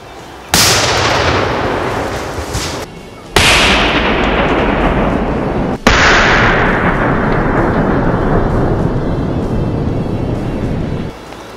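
Real dynamite is set off to cut down a tree: three loud, booming blasts, each followed by a long rumbling roar and decaying echo, outdoors and heavy.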